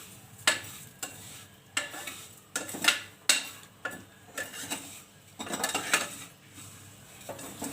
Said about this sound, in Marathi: शेवया चांगल्या भाजून घ्यायच्या।